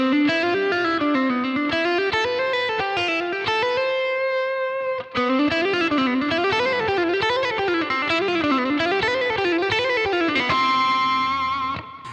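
Distorted electric guitar playing a fast legato phrase of hammer-ons and pull-offs, the notes flowing in a continuous wavering line with a short break midway, loud and upfront with no talk.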